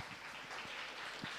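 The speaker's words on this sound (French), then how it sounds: "Je crois qu'on peut déjà applaudir nos invités dans la salle" Studio audience on a live TV set applauding the guests, a soft, steady wash of clapping heard faintly from the room, brief and even.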